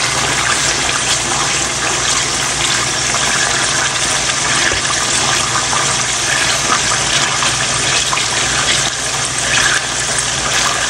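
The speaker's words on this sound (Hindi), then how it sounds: "तो थोड़ा सा हम इसमें पानी डालेंगे ताकि टमाटर हमारे थोड़े नरम हो जाएं।" Water poured into a pan of Peshawari charsi chicken karahi with three chopped tomatoes, giving a steady, close, hissing rush that holds evenly throughout with no talking.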